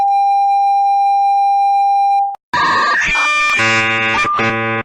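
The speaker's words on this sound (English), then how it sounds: "this sounds exactly like the dial-up internet sound effect" A steady single-pitch emergency alert system tone holds loud and alone for about two seconds, then cuts to a brief gap before a harsh, buzzy, screeching burst of another alert signal with shifting layered tones.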